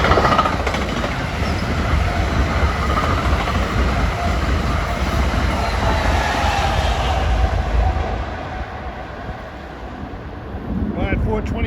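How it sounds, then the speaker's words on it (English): A Trenton–New York commuter train runs through Rahway station without stopping, a steady broad rumble and rush lasting most of the clip before easing near the end, with wind buffeting the microphone. "Here comes another Trenton, New York train."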